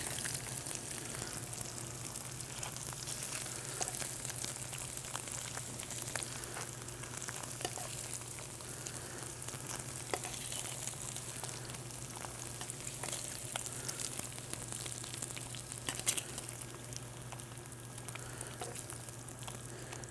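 Pork frying in a pan, a steady close sizzle with crackles and spits running throughout over a low constant hum, no talk.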